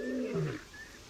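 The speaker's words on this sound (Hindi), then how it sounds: "दूर से आती कर्कश पुकार।" A distant lion lets out one hoarse, descending roar on the savanna, brief and moderately loud, with a faint bird call before and after it.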